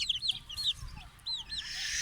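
Small Australorp chicks about one month old peep in thin, high chirps, several overlapping calls repeated quickly, fairly close by with a faint background hum.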